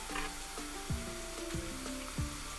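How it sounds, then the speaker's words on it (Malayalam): Chicken bread rolls fry in hot oil with a steady, dense sizzle throughout, close and fairly loud, while soft music runs underneath. "നിങ്ങൾ എണ്ണയിൽ വറുത്തെടുത്താൽ മതി"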